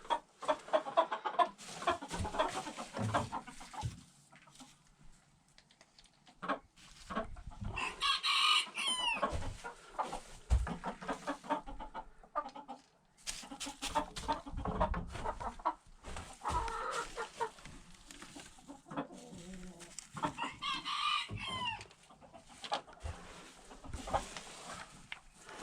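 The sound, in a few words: chickens clucking in a coop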